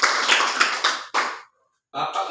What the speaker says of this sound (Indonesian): tepuk tangan untuk Jerni